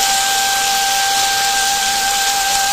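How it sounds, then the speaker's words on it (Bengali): Potatoes, carrots and onions fry together in a pan for chow mein, giving a steady, close, uniform hiss with a thin whistle-like tone running through it and no voices. "ভাজা হচ্ছে কী বলে তো আলু গাজর আর পেঁয়াজ একসঙ্গে"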